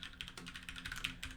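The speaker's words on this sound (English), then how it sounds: "I'm going to just start typing some notes" Fast, steady typing on a computer keyboard while notes are entered into code. The keys make soft, dense clicks that run continuously and sound close but quiet, with no talk.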